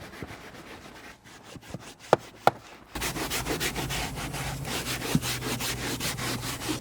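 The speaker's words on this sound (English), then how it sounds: "I will be going in with my carpet brush, and then we'll just brush that in" A carpet brush scrubs cleaner into the floor carpet of a 2003 Volkswagen Beetle, making steady rhythmic rubbing strokes, close and fairly loud, with a few sharper knocks partway through.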